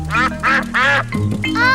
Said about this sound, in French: Peppa et George adorent donner du pain aux canards.